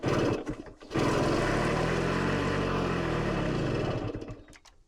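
A 1964 Yamaha engine runs close and loud, sputtering briefly before catching into a steady buzzing idle that rises and falls slightly under throttle, then fades out unevenly.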